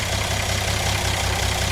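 A 1957 GMC engine idles steadily and loudly nearby with a vacuum leak causing a squall, giving a constant low rumble and an even pulsing beat, with no talking.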